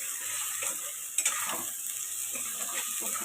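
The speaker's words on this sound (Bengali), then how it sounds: "তোমরা দেখতেই পাচ্ছ কেমনভাবে কষাচ্ছি" Masala and potatoes are sautéed in a pan for fish roe kofta, giving a soft steady sizzle with a spatula scraping and stirring, plus a sharp utensil clank partway through.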